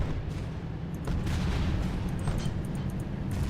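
Tanks in the video game Carrier Command: Gaea Mission firing in battle, a dense run of booming gunfire and artillery-like blasts with sharp cracks scattered across a steady rumbling background.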